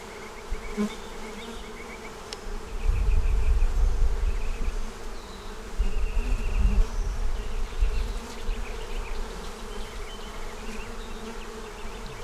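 Honey bees in a honey bound hive, a dense buzzing swarm heard up close, with louder low-pitched swells as bees pass near and a few single wingbeat whines standing out.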